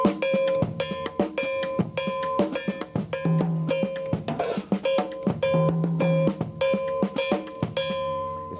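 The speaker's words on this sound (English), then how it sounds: "I'll add this bell to it, and I'll do some things with the hi-hat." Latin rhythm played on a drum set with a mounted bell and hi-hat, a busy repeating pattern of bright bell strikes, crisp hi-hat ticks and low drum hits, played alone.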